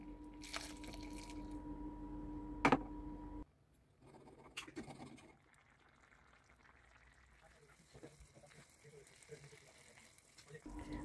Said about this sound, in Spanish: Vamos añadiendo el caldo caliente.